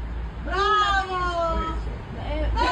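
A cat gives one long, drawn-out meow, then starts a second that breaks off, close and fairly loud against a low background hum.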